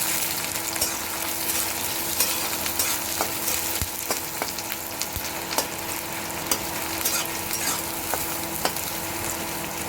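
Onion fries in hot oil in a pan with a loud, continuous sizzle. Scattered clicks and scrapes from stirring sound throughout.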